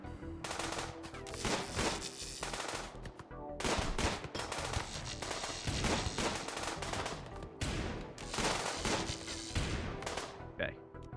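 Repeated bursts of automatic gunfire in a video game firefight, rapid rattling volleys separated by short pauses, loud and close, with occasional talk underneath.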